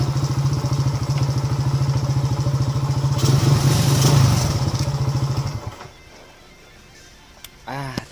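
A Modenas Kriss EX5 motorcycle engine chugs loudly nearby in the rain with a rough, rapid pulse, briefly swells, then cuts out, leaving quiet with a short sound at the end.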